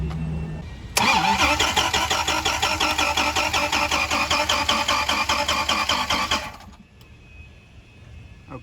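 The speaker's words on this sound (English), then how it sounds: "So I'm gonna go ahead and have somebody crank it over." A Dodge Viper supercar with a no-start fault cranks over for about five seconds in a steady, fast, pulsing starter rhythm without catching, then cuts off abruptly, loud and close.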